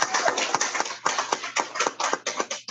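Small in-person audience clapping at an airport funding announcement in Sudbury, a moderate cluster of distinct hand claps in an uneven rhythm, fairly close and with no talk over it.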